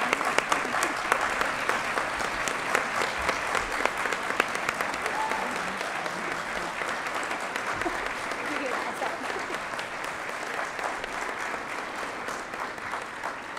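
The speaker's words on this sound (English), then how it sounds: "Standing ovation." A graduation crowd at a Holland College ceremony gives a standing ovation, with sustained, dense applause of many hands clapping that stays loud and steady before slowly thinning toward the end.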